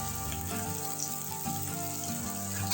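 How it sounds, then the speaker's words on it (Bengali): Boiled potatoes frying in oil with salt and turmeric, a loud, even sizzle that holds steady and close throughout. "আলুগুলো দিয়ে তার মধ্যে নুন হলুদ দিয়ে আলুগুলোকে ভালোভাবে ভেজে নেব"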